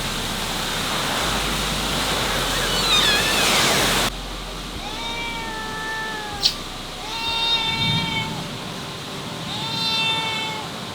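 A frightened cat meows three times in drawn-out, wavering cries, following a loud burst of rushing, monsoon-like rain noise that cuts off suddenly.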